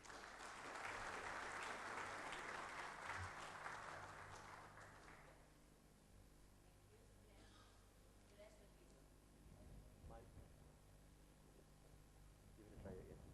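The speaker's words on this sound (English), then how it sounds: "Round of applause for her, ladies and gentlemen." At the APQO Awards Night ceremony in Colombo, an audience breaks into a dense round of applause lasting several seconds, then it dies away and a voice begins talking over a quieter hall.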